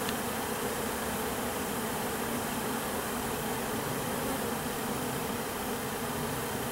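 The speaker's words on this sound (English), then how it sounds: "I know I have bees crawling all over me and they're not stinging me" Honeybees swarm around a beekeeper during a spring hive split, their buzz forming a dense, unbroken drone close to the ear, steady throughout with no talking.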